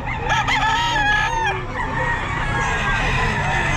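Chickens and roosters at a pet market in Bocaue crow and cluck, a loud close rooster crow rising over constant background clucking and market hubbub.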